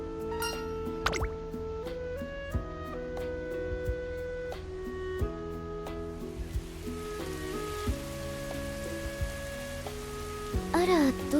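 Rain in an Uma Musume Pretty Derby character story scene, heard as steady dripping and raindrop taps that keep a regular rhythm under soft musical tones, with a brighter splash of drops near the end.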